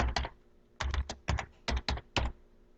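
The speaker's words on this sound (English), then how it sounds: "Start typing it in." Fingers type on a computer keyboard entering a code into an Excel utility, short bursts of crisp key clicks in small clusters, close and clear with quiet pauses between.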